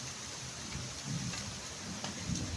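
Steady rain falls in a village, a dense, even hiss close around with a low rumbling undertone.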